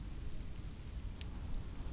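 Heavy rain drums on a car parked in a lot during a thunderstorm, a steady, fairly soft wash of noise with a low rumble beneath it and no voices.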